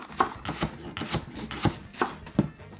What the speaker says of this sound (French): On va couper ça relativement en tranches vraiment minces